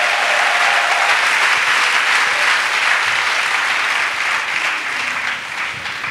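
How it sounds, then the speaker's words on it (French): A church congregation claps steadily together in praise of Jesus, a dense, even wash of applause that carries on loudly throughout with no pauses. "Let us clap for Jesus."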